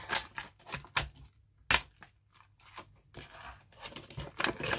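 A new pack of AltairArt paper and card is torn open, with sharp crinkling, tearing and crackling bursts of plastic wrapping close by, irregular and busy throughout.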